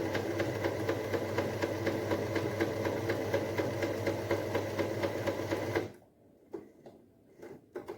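A sewing machine runs steadily as it stitches cloth for a child's dress made from an old churidar, whirring close and loud for about six seconds, then stops abruptly, leaving a few faint clicks and handling noises.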